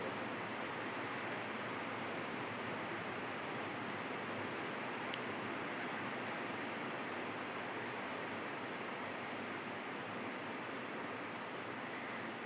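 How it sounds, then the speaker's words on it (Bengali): Potato and bitter gourd fry in oil until crispy, a dense, steady sizzle that holds at an even level throughout with no talking. "একটু সময় নিয়েই ভাজি করতে হবে একদম মুচমুচে করে ভাজি করবো"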